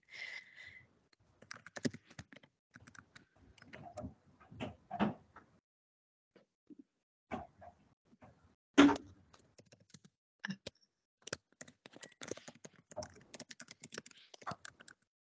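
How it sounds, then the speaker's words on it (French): Quiet, irregular clicks and taps of keys on computer keyboards during an online webinar, in scattered bursts with short gaps, close and soft. "Il y en a qui sont très actifs sur leur clavier, qui tapotent très vite."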